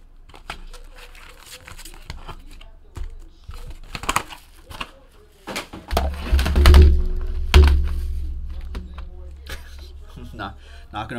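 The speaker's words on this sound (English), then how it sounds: "Knocking over my keyboard here." A computer keyboard knocked over on a desk, a clattering thunk and crinkling rattle near the middle, after some lighter tapping and handling noises.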